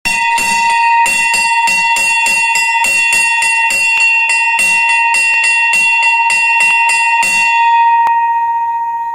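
An electric school bell rings continuously in rapid, loud metallic strikes for about eight seconds, then stops abruptly, leaving a fading ring.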